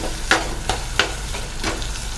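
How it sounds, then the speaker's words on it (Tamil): Tomatoes sautéing in oil in a clay pot for fish curry, with several quick stirring scrapes over a continuous gentle sizzle, close up. "நல்லா தக்காளி எண்ணெயில் வேகட்டும் வதங்கட்டும்"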